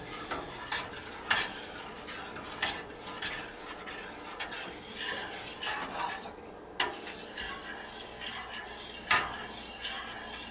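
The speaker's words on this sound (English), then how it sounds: "if you stir it faster, it actually helps a little bit" Homemade mac and cheese sauce is stirred in a pot, a utensil knocking and scraping against the metal in irregular sharp clinks at close range, with a faint bubbling sizzle underneath.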